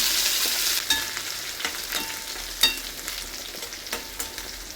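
Crushed garlic and bird's eye chilies sizzle in a hot pan, a steady close fry broken by several sharp scraping knocks from stirring.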